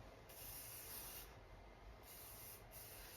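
A lightweight aerosol heat-protection hair spray is spritzed in two bursts, each a close, bright hiss lasting about a second with a brief pause between.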